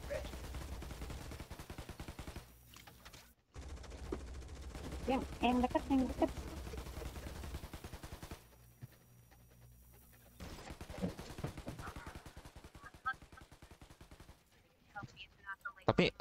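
Rapid repeated laser-gun fire in a shooting video game, dense bursts of rattling shots broken by short gaps, with a voice talking and panting over the action.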